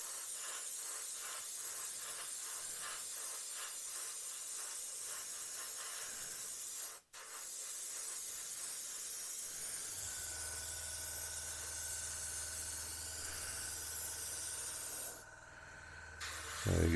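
An airbrush at about 20 psi sprays a thinned 50-50 Tamiya primer mix onto an Airfix 1/48 Bristol Blenheim Mk1 model, giving a continuous soft airy hiss with a brief cutoff midway and a low hum joining later.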